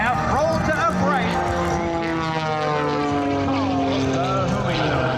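An aerobatic airplane at an air show throttles up and rolls out of a negative-G inverted recovery, its propeller engine droning and shifting pitch continuously under a loud announcer's voice.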